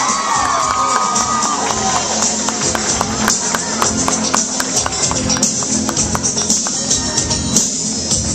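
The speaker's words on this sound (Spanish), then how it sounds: "Para ellos, que se escuchen esos aplausos." A party crowd cheers, whoops and claps at a quinceañera entrance, a lively, continuous wash of voices with sharp individual claps and children's shouts throughout.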